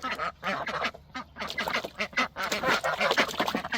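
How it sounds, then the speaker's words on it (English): Runner ducks quack loudly and continuously close by in a barn, several calls overlapping in a busy, noisy chorus. "It's hard to hear her quack away from everybody else."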